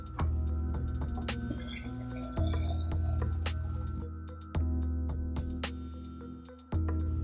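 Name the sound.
pouring drink into a mason jar with ice cubes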